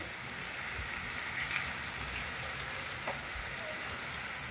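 Onions sizzle and crackle steadily in a pan, a dense, even frying hiss with occasional faint pops and light utensil touches throughout.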